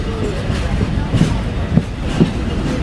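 A Mongla commute train in Bangladesh, hauled by a WDM diesel locomotive, rumbles along steadily with a few soft rhythmic wheel thumps, a voice faintly over the ride noise.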